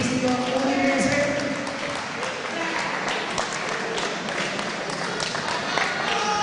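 Crowd applause fills a boxing hall after the verdict in a bout between a boxer from the Udine club and Paolo Gasparello, dense continuous clapping under a loud announcer's voice.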